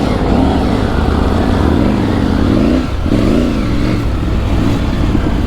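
Triumph Tiger 900 Rally adventure motorcycle ploughing through desert sand in the Thar, its engine droning loud and close with rising and falling revs, a brief throttle dip near the middle before pulling hard again.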